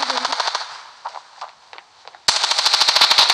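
Video game gunfire bursts in rapid automatic strings, a quick volley, a lull with a few scattered shots, then a louder sustained stream of sharp repeated cracks, close and without talk.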